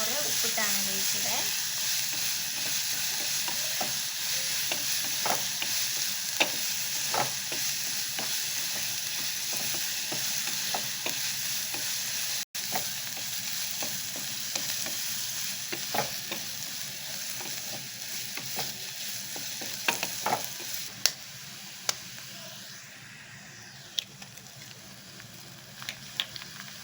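Beaten egg being stirred and scrambled in a hot pan for egg rice, with steady close frying sizzle throughout and scattered sharp scrapes and taps of the spatula against the pan.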